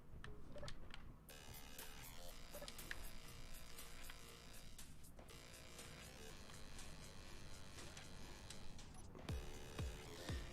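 Steady electric buzzing hum of a welding tool in the space game Space Engineers, continuous and fairly quiet, with faint clicks and soft thuds near the end.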